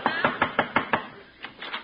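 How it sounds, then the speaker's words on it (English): Knocking on a door again as a radio comedy sound effect: six even raps, a pause, then two softer knocks, dry and close with no speech over them. "what are you knocking again for?"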